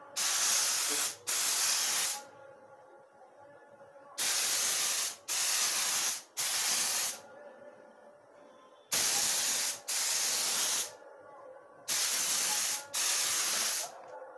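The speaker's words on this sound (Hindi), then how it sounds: "और एक बार स्प्रे करते हैं लास्ट बार" Spray paint hisses onto a car headlight to smoke it, loud and close, in regular bursts of about a second each, mostly in pairs or threes, with short silent gaps between them.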